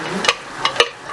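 Blended tomato and pepper hit a hot pot and give off a soft, close sizzle, with a few brief stirring scrapes and splatters over about a second.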